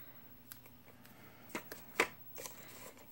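Scissors snipping decorative paper for a loaded envelope, a few quiet, scattered crisp cuts and paper rustles in a soft, close setting.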